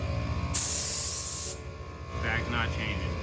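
Compressed air dumped from a Ram 2500 truck's onboard air system with Firestone airbags, a loud one-second hiss burst close by, with a faint hum and light background talk.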